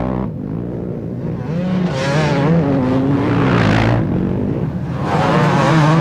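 Several 250cc motocross motorcycles race at a national championship round, their engines revving and wailing in rising and falling bursts as the bikes close in and pull away, loud and near throughout.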